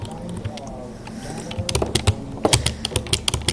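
Rapid keystrokes on a computer keyboard while playing Minecraft, clattering in an uneven burst that grows louder and denser toward the end, over a low background hum and faint talk.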